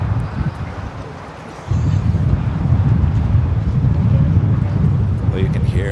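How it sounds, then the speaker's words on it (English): Wind buffeting a microphone outdoors at an airport, a loud, continuous low rumble that swells partway through and holds steady, with a voice speaking over it. "you can hear that wind"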